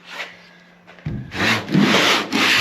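Sanding on a Power Wagon truck door during body work starts after a quiet pause, then rasps in steady, close strokes that grow louder and run together.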